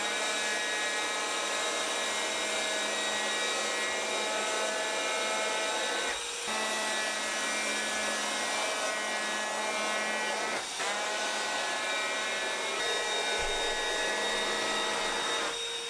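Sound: electric planer jointing wooden board edges

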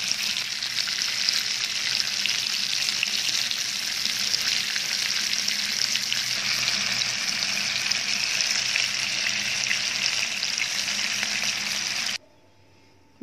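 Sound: kofta meatballs searing in a frying pan

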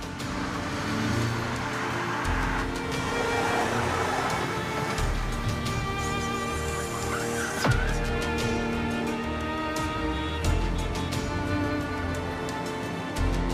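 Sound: car driving

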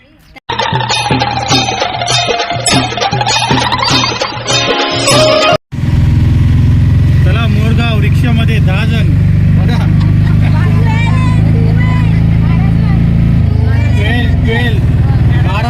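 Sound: auto rickshaw engine running, Jejuri to Morgaon

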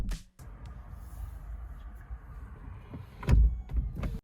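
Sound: Zeekr 001 electric car doors opening and closing

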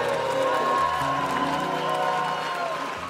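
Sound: church congregation clapping hands

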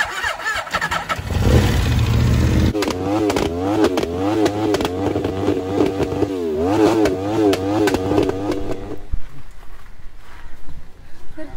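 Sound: loud modified motorbike revving with fire and smoke from exhaust

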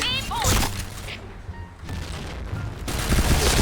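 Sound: gunfire in video game Point Blank

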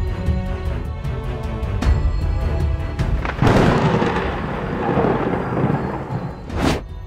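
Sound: thunder and lightning strike sound effect

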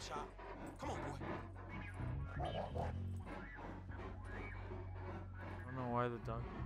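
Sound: Chop the dog barking in the video game GTA 5

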